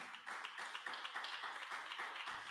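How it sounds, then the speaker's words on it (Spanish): Quiet, distant clapping from a church congregation fills a short stretch, an even patter of many hands without a clear beat and no voices on top. "Un aplauso al Señor."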